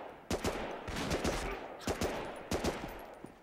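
Bursts of automatic gunfire and single shots in a PlayStation 2 war shooter, sharp repeated cracks in irregular clusters over a rumbling battlefield background, with no talk.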